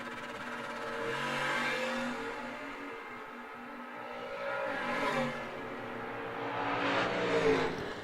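A Malibu and a Camaro drag racing down the strip at an old-time drags event, engines revving and roaring in rising waves as they accelerate away, heard at a moderate distance with no talking.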